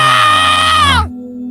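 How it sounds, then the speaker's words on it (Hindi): A loud, terrifying scream rings out for a horror story, a long, strained, high wailing cry held close and full, then breaking off abruptly into a fainter lingering echo. "एक बहुत तेज भयानक चीख गूंज उठी"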